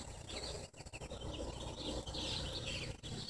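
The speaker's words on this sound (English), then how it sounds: "every day, slightly before the sun goes all the way down, the birds get buck wild like this" Near sunset, dense chirping and calling from many birds, with insect-like trilling, fills the air in a continuous loud wash with no speech.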